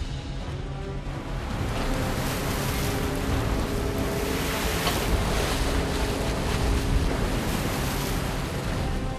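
Cold winter sea breaking around a red snow crab fishing boat at work, a dense, steady roar of waves and spray mixed with wind buffeting the microphone, loud and continuous.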